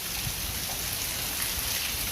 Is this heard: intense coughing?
no